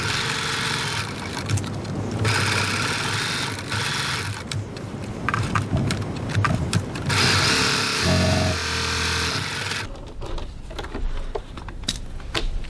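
A sewing machine stitches along the edge of a fabric wallet, a steady close mechanical whir with rapid needle chatter that runs nearly continuously, shifting tone near the end as it slows.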